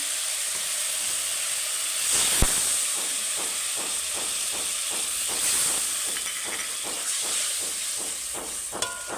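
Water added to spice masala frying in a pan for a rohu fish curry, giving a steady loud hiss and sizzle with faint, regular spattering crackles throughout, close up and without talk.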